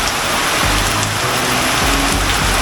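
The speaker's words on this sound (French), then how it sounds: "Il pleut," Steady heavy rain hisses on surfaces on Langkawi island, Malaysia, a dense continuous patter with a faint low murmur underneath.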